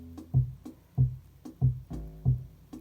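A Eurorack modular synth plays a sequence of gated pitched notes, regular punchy low tones with short bright attacks recurring about every third of a second.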